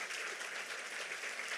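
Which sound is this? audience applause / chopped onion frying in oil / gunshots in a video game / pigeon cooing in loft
audience applause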